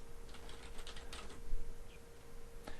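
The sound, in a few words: typing on a computer keyboard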